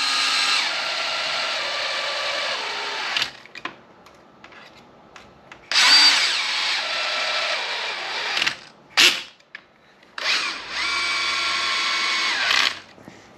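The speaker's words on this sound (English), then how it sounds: "The drill set to the lowest setting." Cordless power drill on its lowest setting driving screws into a Traxxas X-Maxx RC car, three long whirring bursts with short gaps and a brief blip between, close and loud with no talk.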